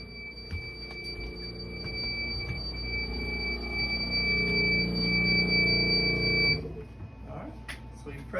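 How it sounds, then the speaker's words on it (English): A vacuum press timer alarm in a picture-framing workshop sounds a steady high electronic tone that holds for several seconds and then cuts off abruptly, with room noise and faint background sounds around it. "Alright, so I hear the bell."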